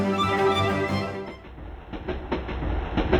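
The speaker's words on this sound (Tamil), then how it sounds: "நிறைய ட்ரெயின்ஸு கார்ஸ்லாம் ஓடிக்கிட்டே இருக்கிறத பார்ப்பீங்க" Miniature model trains run on a magnetic track in a display layout, giving a steady rolling rumble with light rhythmic clicking at close range and no voices.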